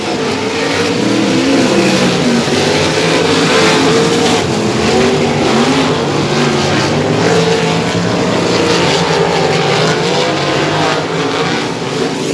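Sprint cars race around a slick dirt oval at a Bandit Outlaw Sprint Series feature at Heart O' Texas Speedway, engines roaring loud and continuous with rising and falling pitch as the field passes through lap traffic.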